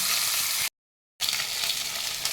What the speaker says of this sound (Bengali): পটলগুলো তুলে নিয়ে আমি মাছগুলো দেখো ছেড়ে দিলাম তেলের মধ্যে। এবার মাছগুলো আমি ভেজে তুলে নেব।